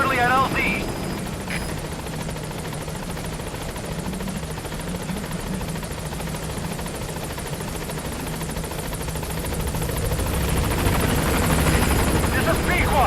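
Support helicopter arriving at a landing zone in Metal Gear Solid 5, a continuous rotor thrum and engine whine that grows louder toward the end, with radio voices talking over it.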